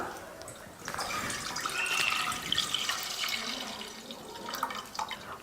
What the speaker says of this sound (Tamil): பாயசம் செய்கிறதுக்கு பால் ஊற்றிக்கலாம்